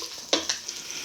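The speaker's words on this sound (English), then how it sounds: "all I'm doing is just breaking up the sausage into smaller pieces over here. And we're literally just letting it brown" Sausage browning in a frying pan as it is broken into smaller pieces, with a steady sizzle and a few sharper scrapes and stirs of a spoon against the pan.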